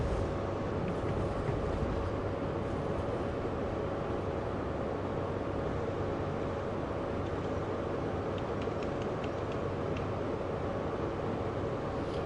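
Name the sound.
HST train passing in Train Sim World video game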